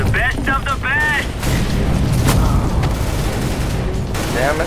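A loud boom of a sniper rifle shot in Counter-Strike: Global Offensive, a sharp blast with a lingering rumble, surrounded by game effects and a voice talking over the action.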